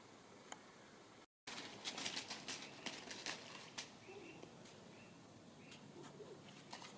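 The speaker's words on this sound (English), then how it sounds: "All you can hear is the occasional bird, but not many, and the sound of leaves falling." A few faint, sparse bird calls drift through a very quiet morning outdoors while leaves fall. Soft, scattered pattering and light rustling sit over a steady low hush, with no talking.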